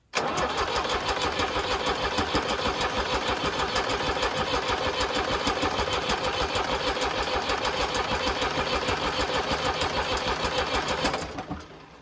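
A Fiat crawler tractor engine with a Bosch VE injection pump cranks over steadily without firing, a loud, continuous rapid chugging that runs for about eleven seconds before stopping.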